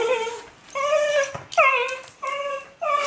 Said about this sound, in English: Hello, standing to attention dog.